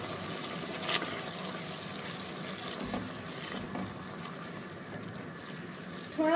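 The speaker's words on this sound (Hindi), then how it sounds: "थोड़ा सा मैं इसमें पानी शामिल करी हूँ 1 कप के करीब" About a cup of water poured from a bowl into a pan while cooking chicken Manchurian, a soft steady trickle and splash throughout, faint and close, with a few light clinks.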